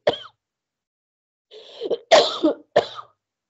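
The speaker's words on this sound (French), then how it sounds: "je vais tousser et ça me gratte" A single cough, then a pause followed by a few harsh throat-clearing coughs in quick succession, close and clear.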